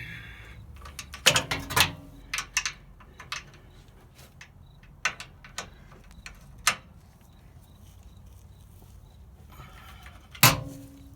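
Metallic clicks and ratcheting clacks come from wrenching out a tight sway bar bolt on a Nissan Xterra, in scattered bursts with pauses between them and a sharp clank near the end.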